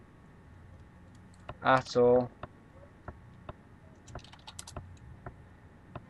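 Computer keyboard keys clatter in short, scattered taps during an online drawing game, faint and close, while a voice speaks briefly in the middle.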